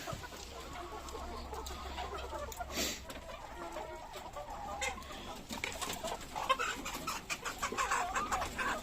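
Chickens cluck and murmur close by in a coop, soft irregular calls with faint rustling and scratching throughout.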